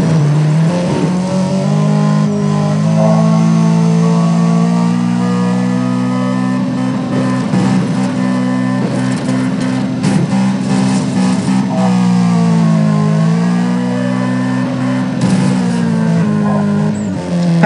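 A car drifts in Need for Speed ProStreet, its engine droning loud and sustained with rising and falling revs, while rough tire scrubbing and squeal textures crackle through the middle of the run.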